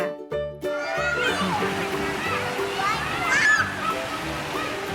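A little girl splashes and swims in a pool wearing a foam float and goggles. Close sloshing and splashing water fills the scene, with voices talking and brief musical notes at the start.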